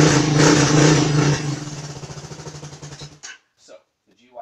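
A Hawk 250 motorcycle engine fitted with a GY6 stator runs loudly with a choppy, throbbing idle, then sputters and dies near the end, followed by a few short sounds.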